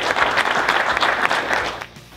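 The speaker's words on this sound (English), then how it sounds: "Let's give them a round of applause." Audience applause at a Frisco City Council meeting during a proclamation honoring FC Dallas, a steady wash of clapping that carries evenly through the whole moment and fades slightly at the end, with no voices over it.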